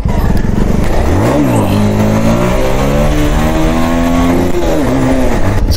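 A motorcycle engine revs hard and close during a wheelie, its pitch sweeping up through quick throttle blips and gear changes before dropping, loud and continuous with no talking.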